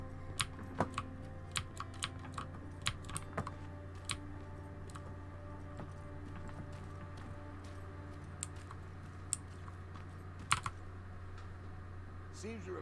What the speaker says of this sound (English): Authentically modelled mechanical keyboard.